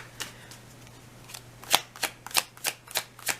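A deck of tarot cards is shuffled in a series of quick, crisp riffles and flicks that grow louder and more regular toward the end, close and clear against a faint steady hum.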